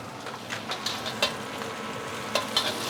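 Garlic and egg sizzle and crackle in a hot pan while a utensil scrapes and stirs in irregular strokes, close up and moderately loud.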